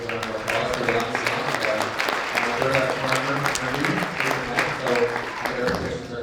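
An audience claps steadily at a public talk hosted by Public Interest Alberta in Edmonton, a sustained round of applause lasting several seconds with some voices mixed in.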